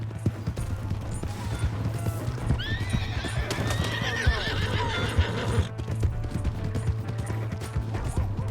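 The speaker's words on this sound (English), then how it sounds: "My horse!" Rapid hoofbeats of a galloping horse throughout, with a loud whinny in the middle, over steady background noise, in the video game Red Dead Redemption 2.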